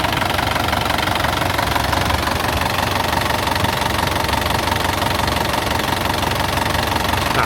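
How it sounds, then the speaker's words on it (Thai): Isuzu D-Max SL pickup engine idling close up, a steady, dense mechanical rattle and hum that stays even and loud with no talk. "เดี๋ยวเดี๋ยวเงียบฟังเสียงเครื่องสักหน่อยครับผม"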